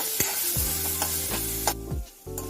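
A medium-sized tomato frying in a pan, a dense close sizzle with spoon scrapes as it is stirred, alongside a steady background hum.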